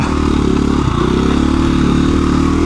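A KTM 350 EXC-f dirt bike works along rutted single track, its single-cylinder engine buzzing loud and close with a steady throbbing pulse and a brief rattling scrape early on.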